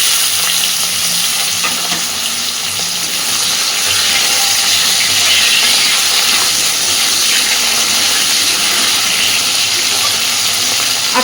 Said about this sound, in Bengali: আগে মেটে আলুটাকে একটু ভেজে নেব ভালোভাবে।